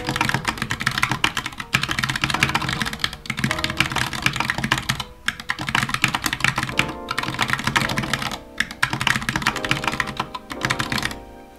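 Rapid continuous typing on a computer keyboard in Dvorak layout, dense clacking keystrokes with brief pauses and bursts, close and loud, with no talk.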